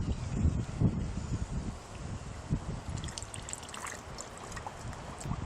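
Electrolyte fizzing and bubbling close by in a lead-acid battery being restored, a steady low gurgle with scattered crackling pops, no voices.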